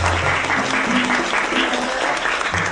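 A room full of people claps steadily and loudly for two new assistants, a dense burst of applause throughout.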